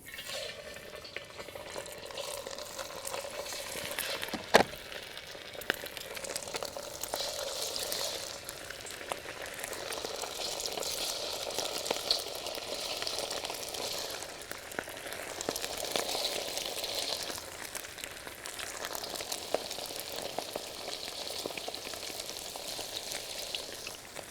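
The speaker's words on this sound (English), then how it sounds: "Okay, so the oil's up to temperature. What I'm gonna do now is just start putting this beef in here." Beef hitting hot oil in a pan, a steady close sizzle and crackle with occasional stirring scrapes and one sharp knock.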